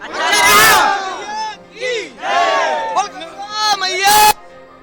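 Large crowd of pilgrims at Mahakumbh 2025, Kumbh Mela grounds, with loud chanted shouts and battle-cry-like calls rising and falling in bursts, close and energetic.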